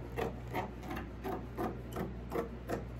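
Scissors cutting through heavy cotton drop cloth fabric for a no-sew pillow, giving about eight evenly spaced rasping snips in steady rhythm, close by over a low constant hum, with no talking.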